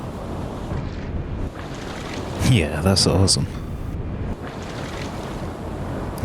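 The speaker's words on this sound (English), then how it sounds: "I love these water effects." Ocean water in the submarine game UBOAT: a steady wash of surf and wind that runs throughout, with a brief burst of speech over it partway through.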